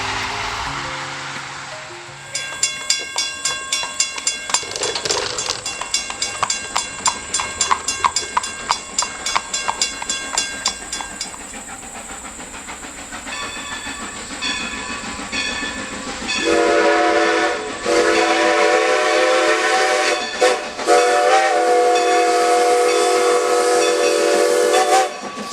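Strasburg Railroad steam locomotive No. 90 rolls past through South Central Pennsylvania countryside, with rhythmic chuffing exhaust, a hissing steam blast, and a loud sustained steam whistle sounding near the end.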